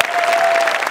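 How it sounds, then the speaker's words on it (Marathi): A comedy-show studio audience breaks into a loud, dense burst of clapping that lasts under a second. "क्या बात, जोरदार टाळ्या."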